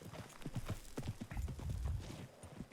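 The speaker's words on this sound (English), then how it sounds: "Oh, these are pretty horses." Horses in Red Dead Redemption 2 walk with a steady clip-clop of hooves, close and fairly quiet, with a brief whinny-like snort partway through and no talk.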